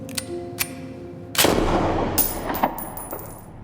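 A single loud, sharp gunshot from a pistol cracks out mid-scene in an action film, followed by a few fainter clicks and metallic clinks, with no voices.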